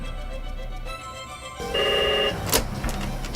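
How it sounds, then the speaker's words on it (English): A telephone rings with a steady electronic trill in a busy housing department office, joining a low background hum, followed by a short clatter. "the phone rarely stops ringing"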